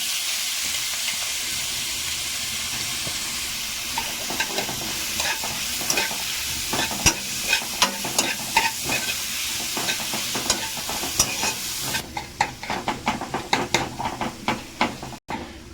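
Grated bottle gourd fries in a pan for a sweet halwa, a constant close sizzle under repeated scraping stirs and clicks of a spoon against the pan that grow sharper and more frequent toward the end.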